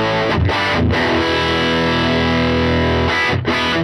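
A distorted electric guitar plays through a Fender Tone Master digital solid-state amp, sustained crunchy chords ringing loud with short choppy breaks between strums.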